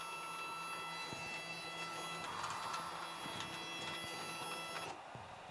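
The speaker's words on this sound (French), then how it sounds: "Et je vais déplacer la machine de 400 mm." A TwoTrees TTC 450 CNC machine drives its stepper motors through a 400 mm move along one axis. The whine is steady and tonal, with a brief change partway through, and it stops abruptly near the end.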